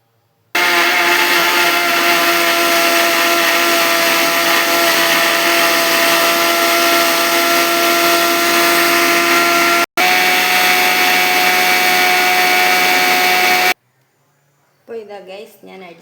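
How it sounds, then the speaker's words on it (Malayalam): A loud mixer grinder blending an apple shake whirs steadily for about thirteen seconds with one brief dip, then cuts off abruptly; a voice speaks afterward. "അപ്പോൾ ഞാനിത് മിക്സിയിലൊന്ന് അടിച്ചെടുക്കട്ടെ"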